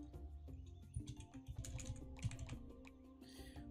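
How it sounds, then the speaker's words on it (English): Rapid clicks of arrow keys tapped on a computer keyboard during a Roots of Pacha game, with irregular bursts of keystrokes over steady game music, moderately close and clear. "I need to press the arrow keys."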